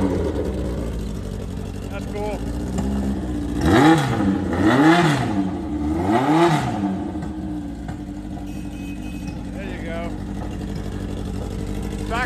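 A Honda CB1100 RR motorcycle engine idles with a deep burble, then revs sharply three times in quick succession before settling back to a rough idle; a voice speaks briefly.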